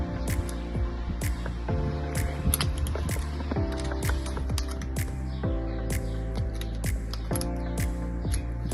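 Screws are tightened on a KuKirin M4 Max electric scooter: a steady run of close, sharp metallic clicks and ticks, with short squeaky tonal glides between them, and no voices.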